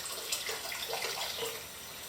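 A tap runs into a sink while film is being developed at home, a soft, continuous splashing stream with faint gurgles, quiet and close, with no talking.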